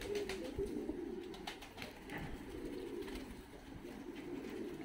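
Mixed-breed fighting pigeons in Tbilisi, Georgia coo low and steadily, with a few faint flutters and knocks in the background.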